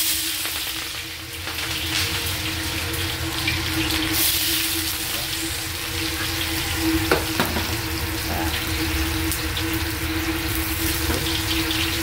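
Garlic and onion frying in hot oil in a pan for chicken tinola, a steady close sizzle with a few stirring knocks, no voices.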